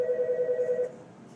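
A telephone rings nearby with a fast warbling electronic trill that cuts off after under a second, leaving quiet room tone.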